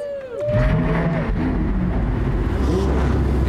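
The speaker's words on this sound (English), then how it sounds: "drivers, start your engines!" GT race cars on the starting grid at Barber fire up their engines, a loud layered rumble with rising and falling revs from several cars building together.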